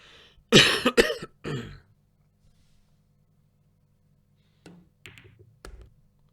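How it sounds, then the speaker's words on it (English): A single burst of harsh coughing up close, followed after a quiet pause by a few softer coughs or throat-clearing sounds. "Cough coming again, I think."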